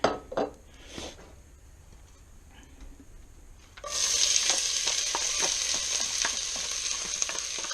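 Cooking oil for Brazilian beef stroganoff goes into a pan still wet with water: a few quiet clinks, then a loud hissing sizzle suddenly erupts partway through and holds steady, close by.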